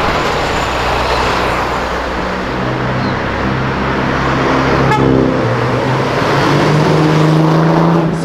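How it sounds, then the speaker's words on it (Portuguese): A car accelerates hard along Avenida Europa, a BMW among the traffic, its engine a loud sustained roar rising in pitch, with street traffic noise around it. "ele acelerou tudo, velho"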